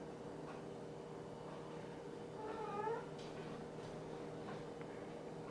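A domestic cat gives a single soft meow near the middle, faint against a steady hum of room noise.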